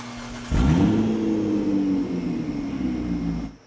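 A car with its catalytic converter stolen starts up with a sudden loud, raw roar, then settles into a harsh, droning idle that holds steady for a few seconds before cutting off.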